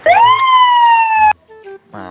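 A toy fire truck's electronic siren sounds one loud, steady wail close by, then stops abruptly and gives way to a few faint electronic beeps.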